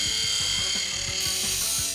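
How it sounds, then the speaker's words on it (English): A cartoon sword-sharpening effect from an Adventures of Sonic the Hedgehog episode, with fast, evenly repeated ratcheting grinds under a bright, sustained metallic hiss, loud and close throughout. "Sword sharpened! Get your sword sharpened!"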